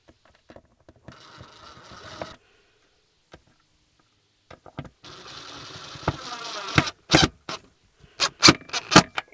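Short screws are driven into a table inside a camper van, producing bursts of buzzing drill whir split by pauses and sharp clicks, close up and without speech.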